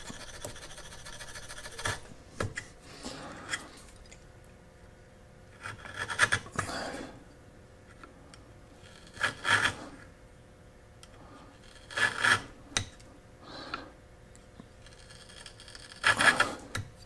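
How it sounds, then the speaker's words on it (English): A woodworking chisel is rubbed back and forth on a sharpening stone in several separate bursts of gritty scraping strokes, each spell a few seconds long with quiet pauses between them. "I'm going to go sharpen my chisel again."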